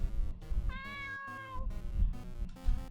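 Cat in the video game Weeping Rosemary meowing, a drawn-out tonal meow in the middle amid game sounds and a few soft short calls around it.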